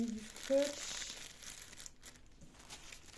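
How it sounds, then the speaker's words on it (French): Plastic packaging sealed with thick yellow tape crinkles and tears during the unboxing of crochet supplies, a steady close rustle with a person talking over it. "ça se déchire. Le plastique."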